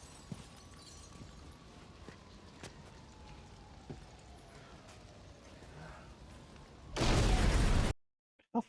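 A grenade explosion in a TV drama scene arrives as one loud, broad blast near the end, after a quiet stretch of faint background sound, and then cuts off abruptly.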